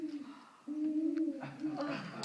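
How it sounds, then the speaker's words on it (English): A great horned owl perched on a person's hand gives deep, drawn-out hoots close by, with a person speaking around the calls. "great horned owl, the tiger of the sky, #1 top predator sitting on my hand right now"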